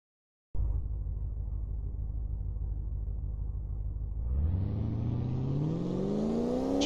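A race car engine in the Car Mechanic Simulator video game sits at a steady low rumble, then revs hard and climbs in pitch as it accelerates, loud and close with no talking.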